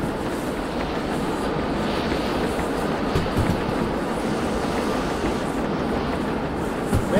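A steam train rolls steadily along rails in the VR game Derail Valley, giving a continuous, even rumble with light clacking and no speech.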